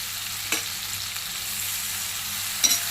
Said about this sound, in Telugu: ఈ ఆయిల్లోకి ఆనియన్స్ వేసేసుకోవాలి. పచ్చిమిర్చిని ఆనియన్స్ వేసేయాలి.